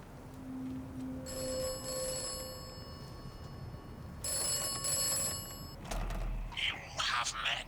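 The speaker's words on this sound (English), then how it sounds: "let's go and have a listen to the phone box, because we know we're going to get a call" In the video game Atomfall, a payphone in a phone box rings with two long electronic trill bursts, fairly loud and near, followed by a voice speaking afterward.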